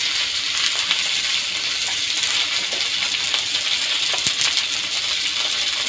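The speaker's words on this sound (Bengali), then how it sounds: "ঢেঁড়সগুলো একটু হালকা করে একটু ভেজে নেব।" Okra sizzles in hot oil with salt in a village kitchen, a steady, close, bright hiss that holds evenly throughout with faint crackles and no talking.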